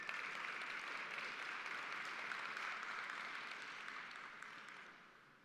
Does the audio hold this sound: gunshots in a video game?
no